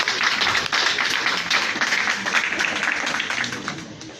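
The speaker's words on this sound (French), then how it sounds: "Encore une fois, on va l'applaudir." Audience at an entrepreneurs' experience-sharing event applauding a speaker, loud continuous clapping from many hands that holds steady for about four seconds before tapering slightly.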